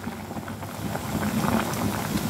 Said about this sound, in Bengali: আর 1-2 মিনিট সেদ্ধ হোক